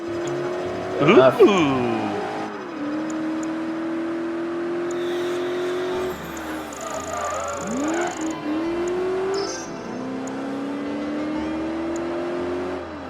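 Honda NSX GT2 race car engine in Project Gotham Racing 3 hums at a steady pitch, with a rising rev sweep early, a gear-change dip midway and further climbing revs; a voice exclaims briefly over it.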